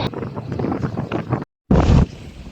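A boat's large motor running at sea, a loud rough rumble mixed with heavy wind buffeting the microphone, briefly cutting out before returning just as strong.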